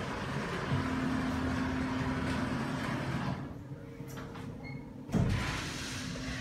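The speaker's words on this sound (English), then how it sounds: "Please stand clear of the closing door." Door of a 2016 Otis Hydrofit hydraulic elevator in a shopping centre sliding shut, a steady close rolling hum followed by a soft thud as the panels meet, with a brief low knock near the end.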